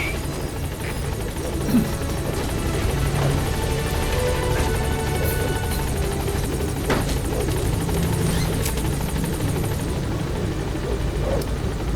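A helicopter in the Metal Gear Solid V video game arrives at a landing zone, its steady rotor drone running continuously at moderate loudness with scattered game sounds over it.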